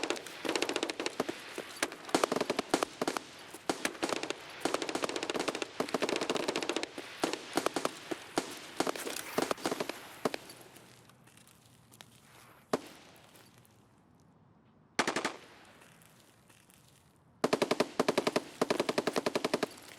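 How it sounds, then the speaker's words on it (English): A firefight at Ground Zero in the Escape from Tarkov video game crackles with sustained automatic gunfire from several weapons. Dense volleys give way to scattered single shots and a quiet lull, then flare up again in sharp bursts. "One heck of a firefight already happening."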